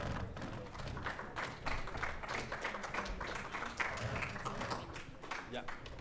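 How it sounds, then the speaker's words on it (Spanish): Audience applause for a speaker at a software conference talk: steady clapping from a crowd that carries on for several seconds at moderate loudness, with voices mixed in. "Un fuerte aplauso, por favor."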